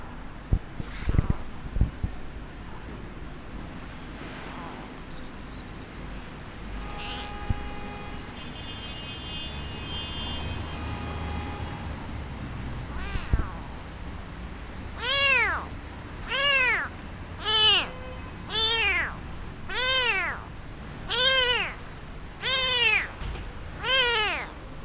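A sick, blind kitten cries in a run of about nine loud, close meows at a steady pace, following a stretch of quieter background noise.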